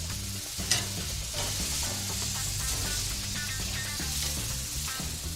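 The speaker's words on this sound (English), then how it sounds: "Our skirt steak on the open fire." Marinated skirt steak sizzling on top of open charcoal coals, a steady hiss and crackle beneath background music.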